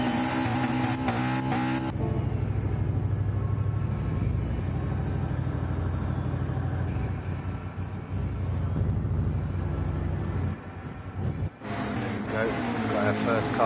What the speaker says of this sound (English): Got our first cars out on the track for their out laps.